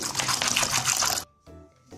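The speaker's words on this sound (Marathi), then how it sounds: "सर्वात प्रथम हे दाणे 2 पाण्याने क्लीन करून घेऊ" Fresh green pigeon peas being rinsed in water, with a dense burst of splashing and rattling for over a second, then a quieter pause and a faint resumption of sloshing near the end.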